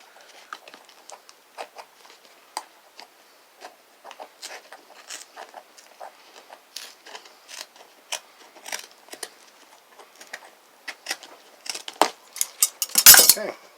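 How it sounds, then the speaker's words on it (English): Scissors trimming back rest upholstery on a mini chopper, heard as a close series of sharp metallic snips and clicks in an irregular rhythm, growing busier and ending in a louder burst. "Finish this off with some scissors,"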